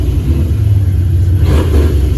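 Turbocharged 1991 Ford Foxbody Mustang with a T56 gearbox, engine running steadily up close, a loud low rumble with the revs climbing slightly, alone without talk.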